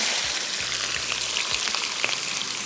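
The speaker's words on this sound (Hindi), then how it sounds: "प्याज शामिल किया और प्याज को हम करते हैं फ्राई" Onions frying in a pan as a curry base, a steady close crackling sizzle with scattered pops that runs alone throughout.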